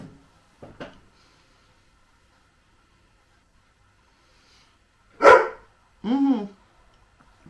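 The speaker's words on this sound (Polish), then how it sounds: "Co dziewczynko, na co szczekasz?" A dog barks indoors: a couple of faint short yips early on, then two loud, close barks in quick succession near the end, with quiet between them.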